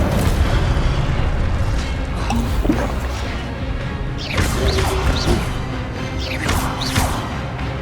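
Incendio fire spells cast in Hogwarts Legacy against zombie brutes, repeated whooshing bursts and booming blasts layered over a constant roar of battle noise.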